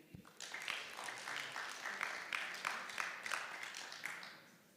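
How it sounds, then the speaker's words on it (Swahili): A modest group of delegates at a savings cooperative education day claps for a speaker giving the vote of thanks, quiet and somewhat distant, swelling briefly and then tapering off. "Tumpigie makofi."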